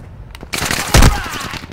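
Bursts of automatic gunfire from enemies in a shooter video game, loud and close, with a rapid rattle that peaks in a heavy blast near the middle before trailing off.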